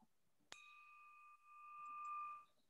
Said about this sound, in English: Ring the bell for Renee.